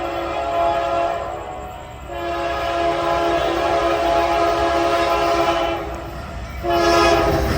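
A freight manifest train that has lost its cars sounds its horn in loud, sustained blasts: one short, a long held one, then another near the end, ringing alone over the rumble of the rails on the Austin and Glidden subdivisions.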